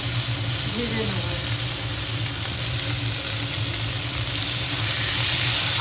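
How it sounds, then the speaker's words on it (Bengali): Three medium chopped onions fry in a pan for a Bengali potol aloo chingri curry, a steady loud hissing sizzle throughout while someone talks over it. "পেঁয়াজটাকে ভালো করে ভেজে নেব।"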